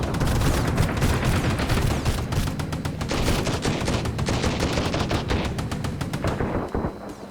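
Rapid sustained automatic gunfire in the survival game Sunkenland, a dense unbroken stream of loud shots that tapers off right at the end.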